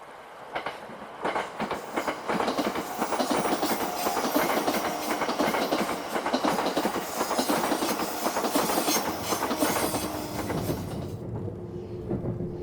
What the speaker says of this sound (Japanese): 雄大な北アルプスを背景に列車は進んでいきます。